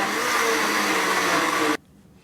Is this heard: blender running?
yes